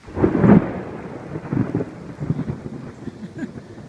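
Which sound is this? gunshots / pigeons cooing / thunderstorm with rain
thunderstorm with rain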